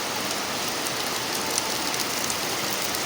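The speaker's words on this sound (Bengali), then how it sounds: "প্রচণ্ড জোরে বৃষ্টি নেমেছে প্রচণ্ড জোরে" Heavy rain pours steadily and loudly, a dense unbroken hiss of falling water with no voices over it.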